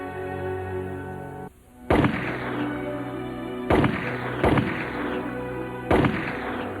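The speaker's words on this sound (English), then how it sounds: "leader Pádraig Pearse and 2 others were shot by a British firing squad" Gunfire of a British firing squad execution of the 1916 Irish leaders, heard as four sharp, loud reports spaced a second or two apart over a steady sustained drone.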